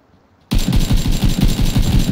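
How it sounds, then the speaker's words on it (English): Sustained automatic gunfire in a multiplayer shooter game erupts abruptly after near silence, a loud, dense rattle of rapid shots continuing without pause. "I don't know where the other guys are shooting from"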